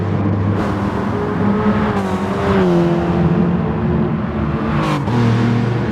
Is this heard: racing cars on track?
yes